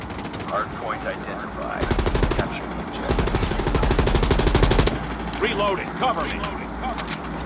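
Rapid automatic gunfire in Call of Duty Hardpoint mode, two dense bursts of rattling shots with scattered single reports, while a player talks over the action.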